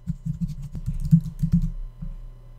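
Typing on a computer keyboard, a quick close run of soft key clicks in short uneven bursts, with a brief pause near the end.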